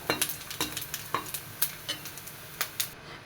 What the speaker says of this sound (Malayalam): ഇപ്പോൾ ഏകദേശം തേങ്ങാക്കൊത്ത് മൂത്ത് തുടങ്ങിയിട്ടുണ്ട് ഇത് വറുത്ത് കൂടിയെടുക്കാം